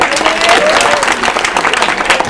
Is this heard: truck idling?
no